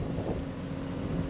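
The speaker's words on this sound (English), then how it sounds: "Super windy out, so we can't burn it." Strong wind buffets the microphone outdoors on a farm field during spring planting, a steady loud low rumble with no other distinct sounds.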